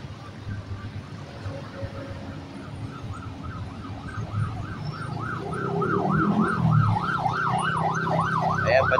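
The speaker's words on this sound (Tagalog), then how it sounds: "padaanin po natin yung ating ambulansya" An ambulance siren wails on a Manila street, first faint and distant, then louder as it nears, its rising and falling whoop growing clearer over traffic and street noise.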